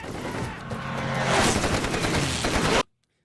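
Anti-aircraft gunfire in the film Letters from Iwo Jima, a loud dense barrage of rapid shots and booms that builds and then cuts off abruptly into silence.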